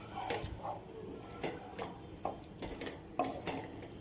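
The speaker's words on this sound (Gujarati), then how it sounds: "હવે ધાણા જીરું નાખીશું અને હલાવી દઈશું" A spoon stirs lemon pickle mixed with coriander-cumin powder in a pan off the heat, producing faint, irregular scrapes and clinks against the metal roughly every half second, quiet and close.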